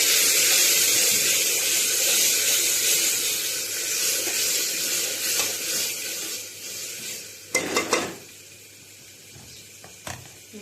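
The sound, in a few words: tempering boiled dal with sizzling spices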